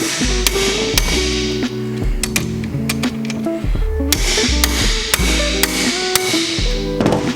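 An impact driver loosens bolts on an engine short block with rapid, sharp hammering bursts that repeat in quick clusters, loud and close, and a ringing metallic tone runs beneath the blows.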